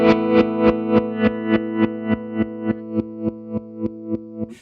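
A Chase Bliss Gravitas tremolo pedal pulses a sustained guitar chord in an even, regular rhythm, about three throbs a second, the waveform shifting from sine to square so the swells turn sharper and more clipped, loud and close with no talk.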